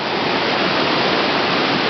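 Waterfall at Hala-Bala, heard from the top of the falls where the water drops over a cliff: a loud, continuous rushing roar with no breaks and no voices.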